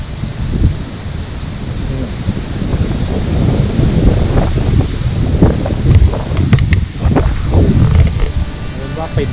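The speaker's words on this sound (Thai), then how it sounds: "วันนี้ลมแรงมาก" Strong wind gusts across an exposed rocky mountain cliff, buffeting the microphone with loud, steady rumbling roar that swells and eases, while someone talks over it.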